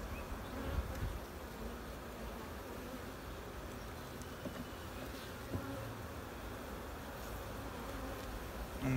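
Honey bees buzz around an open beehive in a faint, continuous swarm drone. It holds steady throughout with a few brief rises in level.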